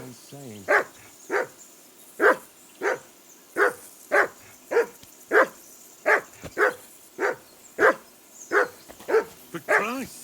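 A dog in Kingdom Come: Deliverance II gives repeated loud barks in a steady rhythm, roughly fifteen in a row, close and insistent with little pause between them.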